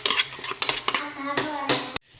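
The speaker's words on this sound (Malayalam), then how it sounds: "ഇനി നമ്മൾ എന്ത് ചെയ്യണേ, അരപ്പ് ഇതിലേക്ക് നല്ല ചേർത്ത് കുഴച്ചെടുക്കാൻ പോവുകയാണ്." Ground coconut paste being worked into a jackfruit curry in a pan with the heat off, a series of close clattering scrapes and knocks of a spoon against the pan that stop abruptly.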